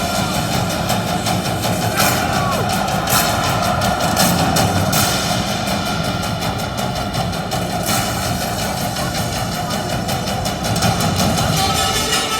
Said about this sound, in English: The M1 Abrams main battle tank, capable of driving at speeds of up to 60 miles per hour